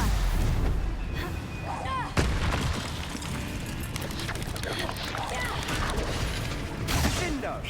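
Confringo blasting spells burst in repeated booming explosions during Hogwarts Legacy combat, with heavy thuds and crackling debris layered among other game noises, while a voice appears to call out over the action.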